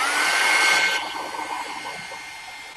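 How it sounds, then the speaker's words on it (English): Heat tool blowing hot air over embossing powder grains, a steady close whoosh with a thin whine that drops in level after the first second and continues more softly. "I'm going to heat them up a little bit more."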